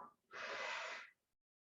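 A single long exhale out through the mouth during slow yoga breathing for sleep, a soft close breathy rush lasting about a second, alone, then silence.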